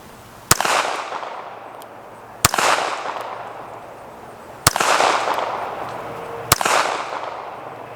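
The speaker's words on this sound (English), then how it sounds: "it is fun trying to shoot little things at a long distance with small pistols" Four sharp pistol shots from a Beretta 1934 fired outdoors at a distant target, spaced roughly two seconds apart, each crack followed by a long rolling echo with no talking.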